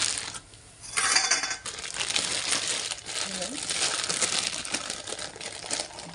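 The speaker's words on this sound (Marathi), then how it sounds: "तर मी इथे काढले ब्रेड" Bread slices are pulled out of a plastic packet, giving soft crinkling and rustling bursts that begin after a brief lull and continue near the microphone in the kitchen.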